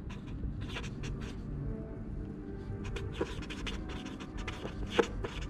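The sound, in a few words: writing observations on paper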